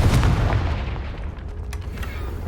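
A Confringo fire spell in Hogwarts Legacy lands with one deep, heavy boom right at the start, then rumbles and crackles away into a fading low echo.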